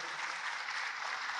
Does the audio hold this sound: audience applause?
yes